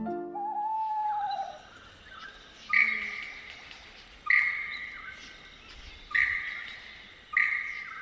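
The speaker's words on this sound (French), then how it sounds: "Ce que l'on entend ici, c'est le logiciel de base de l'oiseau lyre, sa voix originelle." A lyrebird gives its own natural call: a descending whistled phrase followed by a series of repeated sharp, ringing notes spaced about one and a half seconds apart, clear against soft forest ambience.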